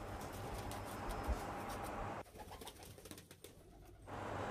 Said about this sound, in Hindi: ये देखें जी कबूतर, आप देख सकते हैं फुल क्रीज में आए हुए हैं